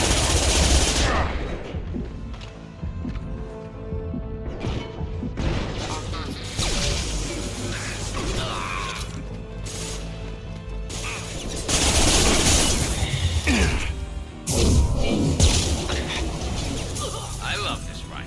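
Rifle gunfire in Mass Effect Legendary Edition, with dense automatic bursts and sharp shots, crashes and whooshes running through the whole span, loud and close, with voices talking over parts of it.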